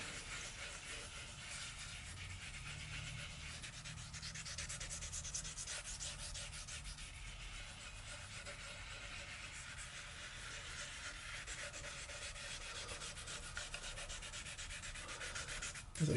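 Steady rubbing on tea-treated oak wood, a continuous close scratchy abrasion like sanding that holds an even level throughout with no pauses.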